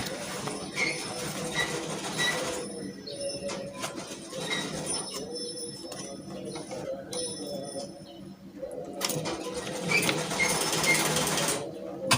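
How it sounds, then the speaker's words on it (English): A home sewing machine stitches an off-the-shoulder smocking dress with ordinary thread, a soft, fairly quiet mechanical whir with scattered ticks and clicks, rising and easing over several stretches. "And sew with my normal thread"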